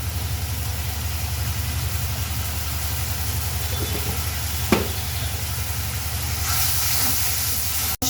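Spices sizzling and frying in a pan for jackfruit seed curry, a steady close hiss with a brief louder crackle near the middle and a slightly brighter sizzle toward the end, no talking.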